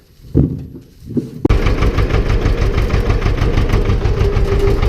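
An Ursus C330 tractor engine on a farm: a few quiet knocks, then the engine catches at about 1.5 seconds and runs loudly with a steady, rapid diesel chugging to the end, close by.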